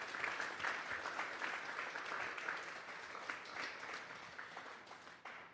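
A church congregation applauding during a Sunday morning service, a sustained wash of many hands clapping at moderate distance, steady and fairly faint, thinning toward the end.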